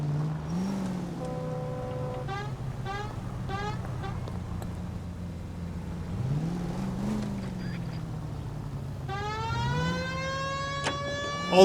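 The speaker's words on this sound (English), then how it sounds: "We have a siren." A wailing police siren in the game L.A. Noire rises and falls repeatedly over a steady engine drone, with a final rising sweep toward the end.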